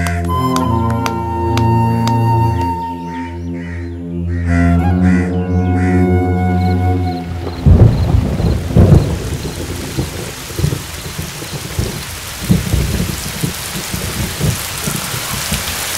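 Heavy rain pours steadily with rumbles of thunder, loud and continuous after a stretch of sustained musical tones early on.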